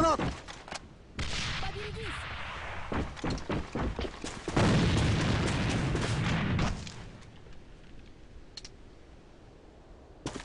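In the shooter game A.V.A, a grenade explodes with a sustained, rumbling blast of several seconds that then fades. Sharp gunfire and clicks come before it, and a voice can be heard faintly.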